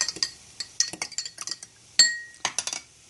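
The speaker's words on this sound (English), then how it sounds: "I'm going to dip up about 2 tablespoons of arrowroot flour and stir it into this glass of water." Spoon clinking against a glass of water as arrowroot flour is stirred in, a quick run of light, near taps and chimes with short pauses, one brighter ring standing out alone.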